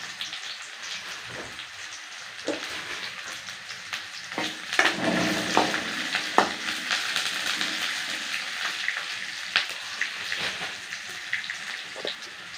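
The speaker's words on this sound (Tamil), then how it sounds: "நல்லா வதங்கட்டும்." Fresh mint leaves sauté over a high flame in a pan for mint chutney, giving a dense, close, continuous crackling sizzle with a few louder spatters and occasional stirring scrapes and no talk.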